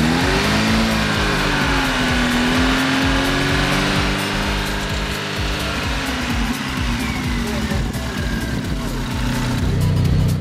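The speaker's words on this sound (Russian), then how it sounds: "Работа двигателя на высоких оборотах." Daewoo Nexia 1.5 L 8-valve engine revved up near the microphone, its pitch rising and then falling back in a sweeping, buzzy drone over a couple of cycles, with rattling noise underneath.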